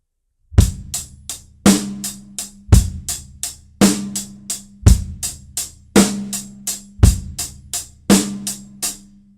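Drums played in steady eighth note triplets, with sharp, evenly spaced hits grouped in threes and a strong accent at the start of each group, loud and close with no talking.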